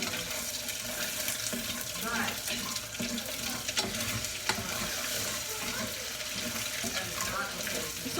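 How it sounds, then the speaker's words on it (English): Stir-fried tomatoes sizzle and hiss steadily in a pan as a late-night snack, with a dense, continuous frying texture and occasional clinks throughout. "It's just a perfect late night snack with stir-fried tomatoes."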